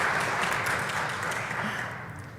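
Faint, steady applause from an audience at a Spanish-language technical presentation on ArcGIS Enterprise, a soft continuous patter of hands fading slightly toward the end with no speech over it.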